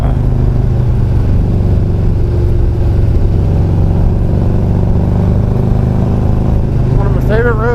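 A Harley-Davidson motorcycle with a Screamin Eagle Stage 4 engine rides twisting, hilly Texas roads, its low, constant rumble heard up close under a rider talking steadily.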